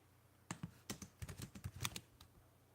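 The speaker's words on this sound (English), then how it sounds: "Let me type something in real quick." Rapid typing on a computer keyboard, a quick burst of around a dozen close keystrokes with an uneven rhythm, fairly quiet and with no voices.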